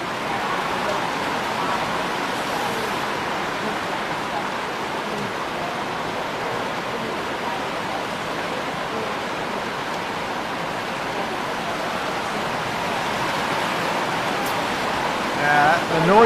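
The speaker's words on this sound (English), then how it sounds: "The noise we're hearing is definitely the amount of rain is going on outside at the moment." Heavy rain falls outside a venue during an under-18 girls' singles quarter-final at a state championship, a steady, dense broadband hiss that holds unbroken at an even level, with no clear voices.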